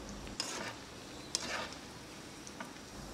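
Soft, steady sizzling of peanuts frying in a pan over low to medium heat, with a few light scraping clicks and no voices.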